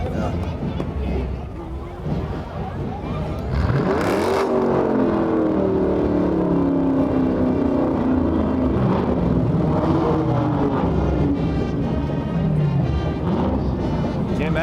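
Classic cars in a small-town Pioneer Days parade rumble past, a steady loud engine drone with a rising rev sweep around the middle, while people nearby talk over it.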